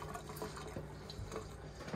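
Water is poured onto the seal of a lid to lubricate it, a faint splashing trickle with small drips and light clinks, quiet and close.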